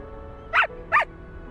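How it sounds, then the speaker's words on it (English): A puppy in the video game Reverse 1999 gives two short, sharp yips in quick succession over a quiet background hum. "Oh, a puppy."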